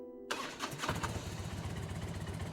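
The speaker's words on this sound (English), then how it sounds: "the air roared with the sound of the engine firing up" A car engine cranks and catches after an ignition key is turned, then settles into a steady rumbling run, close and fairly quiet.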